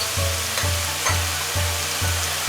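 Green chili and garlic-ginger paste sizzle in a hot pan with a loud, continuous frying hiss. A regular low thumping of stirring or tossing pulses roughly every half second, and no one speaks.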